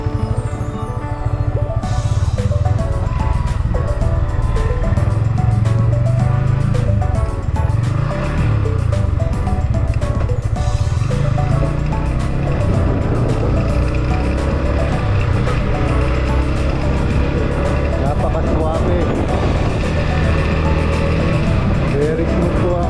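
A 2023 Yamaha MT-15 BS6 motorcycle rides steadily with a constant loud engine drone that rises and falls slightly as gears change, while someone talks over it throughout.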